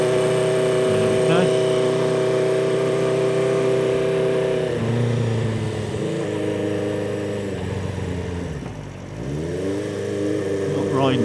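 Motorbike engine idling and revving as it pulls away on a frosty spring morning, choke just switched off; a steady mid-pitched drone rises, dips and climbs again between gear changes, close and continuous.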